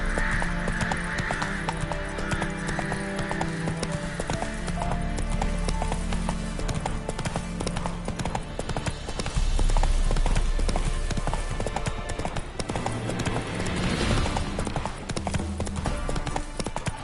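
Hooves pound in a fast, unbroken gallop as Geralt's horse Roach runs in The Witcher 3, heard up close with a low throbbing music bed beneath.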